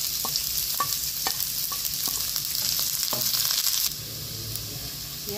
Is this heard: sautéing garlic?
yes